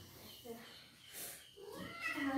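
A cat meows a few times in a domestic room, with drawn-out, rising and falling cries heard close by while people talk around it.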